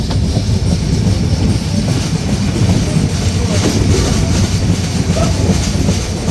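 Padma Express intercity train running between Rajshahi and Dhaka, heard as a steady, loud roar of wheels and carriages with faint rhythmic clatter throughout, recorded close from on board.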